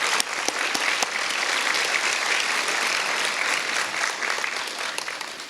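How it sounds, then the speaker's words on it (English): Audience applause at an evening youth health awards ceremony, a dense steady wash of many hands clapping that holds strong throughout and thins slightly at the end. "if you could join me in just giving all of these people a round of applause"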